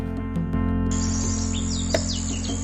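House sparrows give a few quick, bright chirps, fairly close, over a steady low hum and faint insect-like drone.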